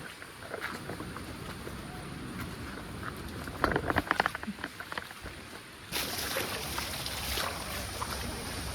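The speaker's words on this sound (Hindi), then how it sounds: "आपको आवाज़ आ रही होगी वाटरफॉल की।" Distant roar of Dudhsagar Waterfall heard from a jungle trek trail: a steady, broad rushing wash of falling water that fills the whole clip, with brief rustling and clattering nearby partway through.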